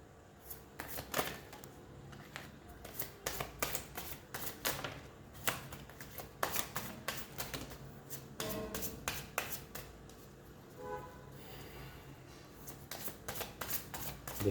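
Tarot cards for a love reading being shuffled by hand, with repeated crisp riffling and flicking bursts, close and fairly quiet, and no talking.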